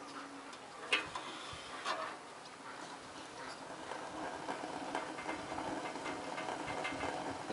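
Potatoes coming to a boil in a pot on a Scheffler solar mirror cooker, giving a soft, steady bubbling and crackling patter with a few sharper ticks, faint and continuous.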